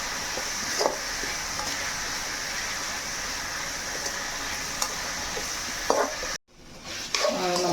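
Sliced onion and grated coconut sautéing in a pan for a Kerala-style chicken curry, a constant close hissing sizzle with a few spoon scrapes and a brief dropout near the end.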